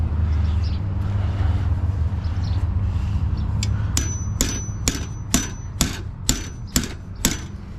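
A hammer strikes a bent camper part in a parking lot, with about eight sharp metallic blows at a steady rhythm, loud and close, after a stretch of low engine hum.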